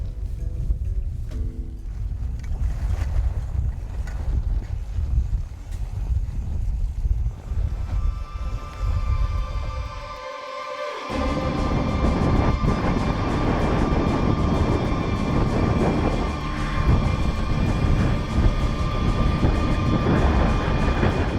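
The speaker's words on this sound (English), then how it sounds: "During the night, the wind hits gale force" Gale-force wind drives snow across a camp of tents in a snowstorm, a loud, continuous roar that briefly dips and then surges stronger and steadier for the rest of the stretch.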